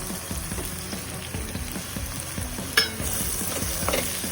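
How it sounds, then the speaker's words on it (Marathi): Dried fish (sukat) coated in spices is stirred in hot oil, giving a steady sizzle with repeated scraping strokes of a spoon against the pan and one sharper clatter partway through. "त्याला व्यवस्थित तेलामध्ये मिक्स करून घ्यायचं आहे, जेणेकरून सगळीकडे सेम प्रमाणामध्ये मसाले सुकटला लागतील"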